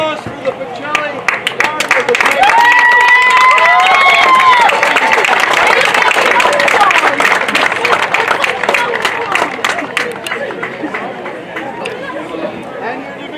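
A crowd at a high school sectional final baseball game claps and cheers for the Pacelli team, loud and close, swelling over a few seconds and then thinning, with voices calling out and chattering over the clapping.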